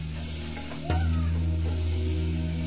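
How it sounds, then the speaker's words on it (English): Butter for a wing sauce sizzles steadily in a pan, a soft broadband crackle joined just before the one-second mark by a louder sustained hum, with faint clinks and stirring noises over it. "We're gonna saute the butter and turn the heat down because you don't want the butter to burn."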